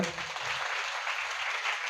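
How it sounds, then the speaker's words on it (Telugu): An audience at a Christian sermon gathering breaks into dense, continuous applause that sounds steady and slightly distant, with no talking over it. "కొట్టి చప్పట్లు గట్టిగా"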